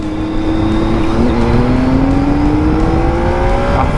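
Triumph Tiger 800XC adventure motorcycle accelerating on an open road, a steady loud engine drone with rising pitch sweeps as it pulls through the gears, wind noise throughout and no talk.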